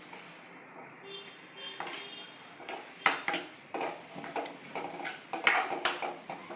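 A spoon clinks and scrapes against a pan as a potato palya with turmeric is mixed, with sharp metallic taps growing more frequent toward the end over a faint sizzle, close by and without talk.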